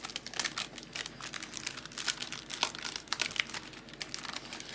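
Paper being cut out by hand for a design, heard as close, continuous crisp crinkling and snipping rustles with small irregular peaks, no speech.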